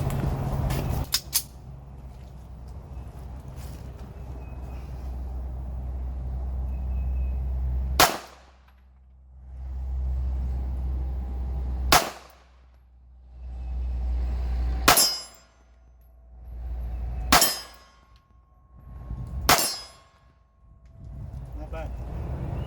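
Handgun shots at an outdoor gun range: five loud, sharp cracks spaced several seconds apart over low background rumble, each followed by a quieter pause, with a few faint clicks near the start.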